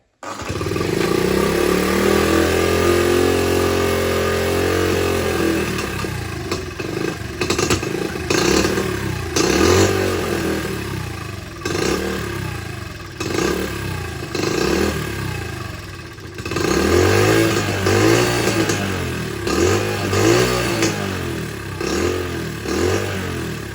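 A 1976 Honda CT70 motorcycle that has sat for a long time with a carburetor needing cleaning runs loud and close, idling with an uneven putter and repeated revs rising and falling throughout.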